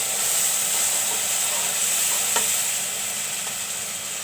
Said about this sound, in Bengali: একটু কষিয়ে নিব মশলাগুলো